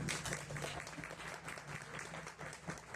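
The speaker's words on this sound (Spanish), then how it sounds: "Fuerte el aplauso para ellos." Audience at a book presentation at a university book fair in Baja California applauds the presenters: a sustained, even patter of many hands, quiet and slightly distant.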